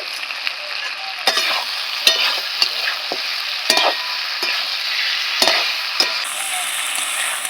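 Spice paste with grated tomato sautéing in a pan for an okra curry, a bright continuous sizzle broken by repeated sharp spatula scrapes and knocks against the pan, close and loud with no talk.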